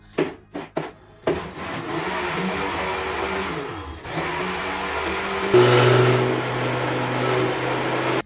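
A few short knocks, then a mixer grinder whirs continuously while churning butter for ghee, its motor pitch shifting as it churns, growing louder near the end.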